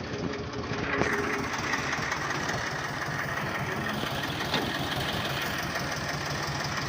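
A tractor engine idles in a field, a steady, loud, knocking diesel chug that runs evenly for several seconds without pause.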